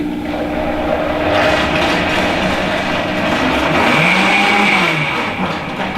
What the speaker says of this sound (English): We're going to blend this and then we're going to cream it up.